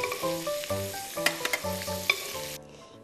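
Food sears in a frying pan for seafood gumbo-style okra, with a steady close hiss and a few sharp crackles, alongside a gentle melodic tune. The hiss cuts off near the end.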